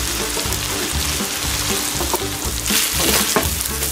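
Egg-coated rice stir-frying in a wok over maximum high heat, a loud steady sizzle with rhythmic scraping and tossing strokes repeating throughout.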